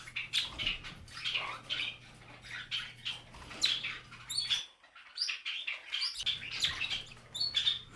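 Large parrots alongside rosy Bourke parakeets, Kakariki and Java finches chirping indoors, a busy stream of overlapping high tweets and squeaks, close and fairly quiet, with a brief lull midway and no talking.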